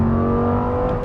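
An Audi R8 V10 on its stock exhaust holds a loud, close, sustained rev, a steady bright tone with a rich stack of harmonics and no voices over it.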